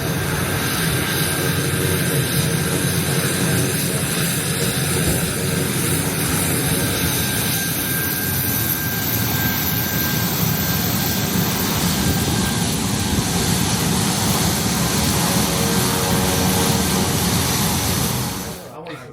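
Beechcraft King Air propeller aircraft arriving at a seaplane base, a loud continuous engine and propeller drone holding steady for nearly twenty seconds before easing off at the end.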